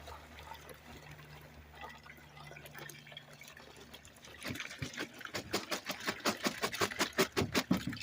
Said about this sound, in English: going to pour the contents of the white container into the gray container